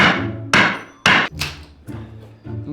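A hammer bashing wooden pallets, with several heavy wooden thwacks in an uneven rhythm, each a loud close impact with a short ringing decay.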